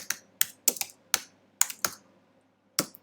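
Keys clatter on a computer keyboard as names are typed, a handful of sharp close clicks in an uneven rhythm with short gaps, the last keystroke landing after a pause.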